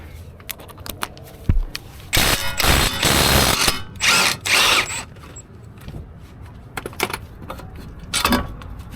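A power tool, likely an impact driver or drill, removes a strut tower mount nut on an R53 Mini Cooper S, with several loud bursts among clinks and rattles of tools and keys, close up, no talking.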